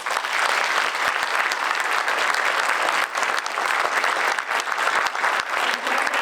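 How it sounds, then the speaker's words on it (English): A large audience claps steadily at a USUHS DNP graduation ceremony, with individual sharp claps standing out inside a thick, continuous round of applause that carries on evenly throughout. "Let's give him a round of applause."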